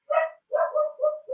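A dog named Spud barks nearby in a quick run of several sharp, slightly yelping barks, heard alone.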